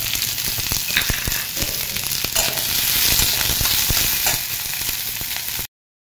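Chopped onion sizzles and fries in hot oil in a pan for an aluvadi rassa bhaji, a steady loud crackle with occasional scraping stirs, and no talking, until it cuts off abruptly near the end.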